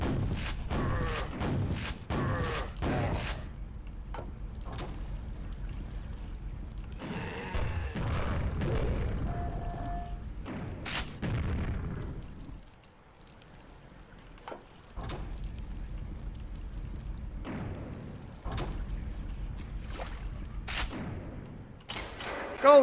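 Grenade explosions and heavy thuds in Quake, Dimension of the Past, in bursts of loud close blasts with mechanical clanks between them, a quiet pause midway, then more scattered impacts.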